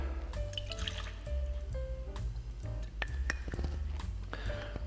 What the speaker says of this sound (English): We're going to go 2 ounces of our rye whiskey. Today we're using Sazerac.